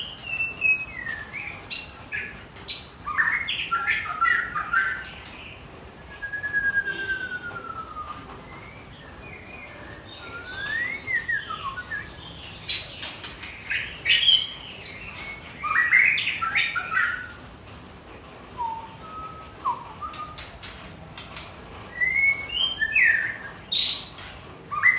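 A white-rumped shama in moult sings and calls repeatedly, giving bright whistled phrases, chirps and harsh squawks close by, with steady background hiss and no talk.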